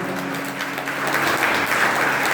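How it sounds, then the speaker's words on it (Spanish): A church congregation applauding steadily, the clapping swelling slightly louder partway through, with a faint hum underneath. "Yo quiero que brinden un fuerte aplauso al Señor."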